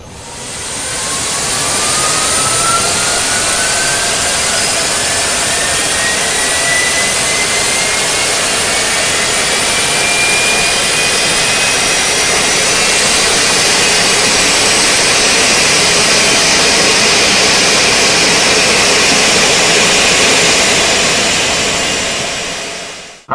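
Jet engine of an easyJet Boeing 737 in the X-Plane 11 flight simulator spooling up, a loud, steady roar with a rising whine that sweeps upward throughout, continuous and close.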